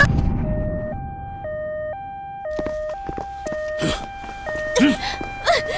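An ambulance siren wails in alternating two-tone steps, loud and close, with shouting voices and thumps over it in a tense scene.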